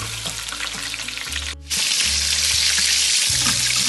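Onions dropped into hot oil for chicken mandi rice: a loud, steady sizzle and crackle of frying that briefly cuts out and then resumes stronger, close up, with a low hum underneath and no talking.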